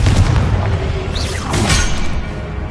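A Confringo fire spell explodes in Hogwarts Legacy, a loud booming blast with a whooshing streak over a dense, rumbling game soundscape.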